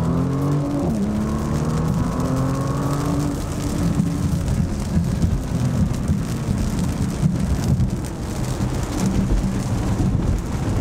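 A 2020 Bentley Continental GT with a modified exhaust accelerating hard, a loud, rising engine roar with dense rumble, heard close from inside the car for the whole stretch.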